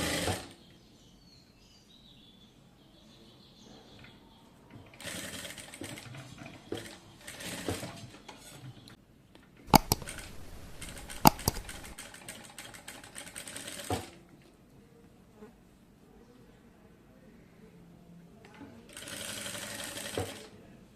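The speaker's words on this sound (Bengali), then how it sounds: "তো আমি একইভাবে হচ্ছে এই পাশটাকেও হচ্ছে সেলাই করে নেব।" A sewing machine stitches fabric for a neck design in several whirring bursts of rapid needle clatter, with quiet pauses between runs.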